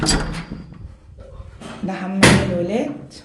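A bathroom door in a home is pushed shut, producing a single dull thud partway through while people talk over it.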